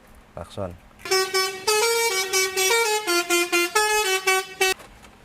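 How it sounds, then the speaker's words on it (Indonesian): A loud, close Volvo car horn sounds in a rapid series of short honks, with a brief voice just before it. "Klakson."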